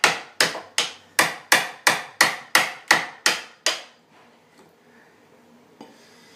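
Ten sharp hammer blows ring out on a stuck metal part, evenly spaced and close, each with a bright metallic clang and short decay, followed by quiet with faint handling sounds.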